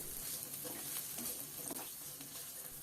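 Onions sizzle steadily in a hot pan while being sautéed for pav bhaji, with occasional scraping and stirring, close up and continuous, with no voices.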